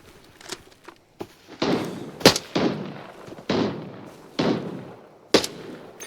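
Sharp bursts of gunfire from the video game Arena Breakout Infinite crack repeatedly at irregular intervals, some loud and close, others duller, over a rumbling, noisy background.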